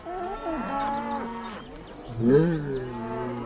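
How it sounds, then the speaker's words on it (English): Cows mooing on a road, a couple of long, close, loud moos with drawn-out tonal calls, one after another over quiet background. "Declan, on one hand, just chooses to sit and wait for the cows to move naturally"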